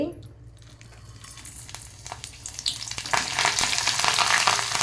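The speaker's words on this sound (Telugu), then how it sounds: "కొత్తిమీర కరివేపాకు ధనియాలు జీలకర్ర ఎండుమిరపకాయలు ఆవాలు మెంతులు అన్నీ వేసానండి" Spices, curry leaves and dried red chillies tempering in hot groundnut oil, starting quietly and swelling into a loud, dense crackling sizzle with some stirring, close by.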